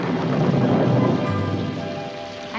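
A deep rumble of thunder rolls over steady falling rain outside, loud and full at first before easing off, with no voices.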